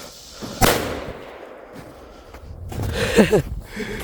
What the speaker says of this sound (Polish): No i po petardach.